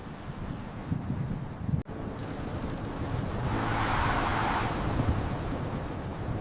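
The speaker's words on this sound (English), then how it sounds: "The wind is strong." Strong wind gusts buffet the microphone outdoors during a bike ride, a loud steady rushing roar that briefly cuts out, then swells again, with no talking.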